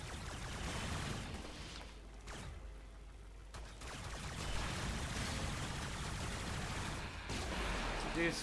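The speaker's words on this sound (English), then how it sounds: "This weapon, the Supra, when you press the trigger, well, when shit starts, it does a lot of damage." Supra weapon firing in the Warframe video game, sustained rattling bursts with short breaks, fairly quiet under a spoken voice.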